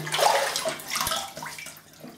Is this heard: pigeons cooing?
no